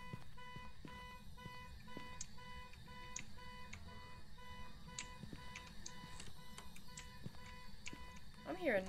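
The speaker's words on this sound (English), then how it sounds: "So the car alarm is still going off." A car alarm in the ghost-hunting game Phasmophobia repeats its rapid, steady beeping pattern for the whole stretch, faint and mid-distance, while players talk over it throughout.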